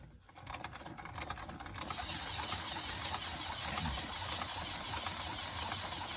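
Old-school pneumatic model engine running on compressed air, a fast steady ticking and chuffing rhythm over a constant airy hiss, fairly quiet and close, starting after a short burst of handling noise.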